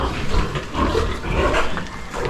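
Pigs at a Filipino farm where animals are being picked out for slaughter, grunting and squealing over a dense, steady background of farm noise for a couple of seconds.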